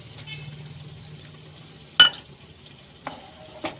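Mustard-poppy seed paste stirred into fried masala in a pan, heard as soft scraping and stirring with a faint low sizzle, punctuated by a few sharp clinks of a utensil against the pan.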